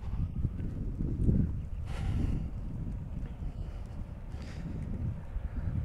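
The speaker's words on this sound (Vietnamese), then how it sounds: "Đây, gió biển đang đi" Sea wind blowing at a seaside eco-tourism area near aquaculture ponds: a low, rumbling buffet of gusts against the microphone, steady and soft, with no voices.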